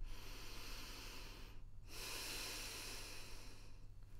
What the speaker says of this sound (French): On entend notre respiration beaucoup plus fort quand on fait ça, quand on se bouche les oreilles.